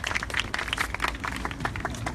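At the 1257th Wednesday Demonstration, an outdoor protest rally, the crowd gives a brief burst of dense, steady clapping heard up close.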